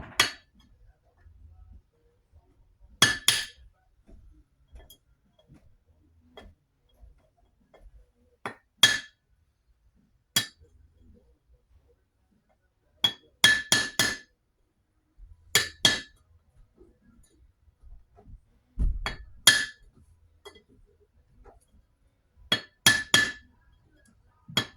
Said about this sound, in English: So I'll just put my hammer, my screwdriver Phillips on top of that.